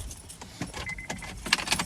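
Car keys jangle close and clear in short metallic bursts over a faint low rumble of a vehicle.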